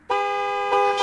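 Steady horn blast from a car in a video game, a bright sustained tone starting abruptly and holding for about a second, with a slight surge near the end.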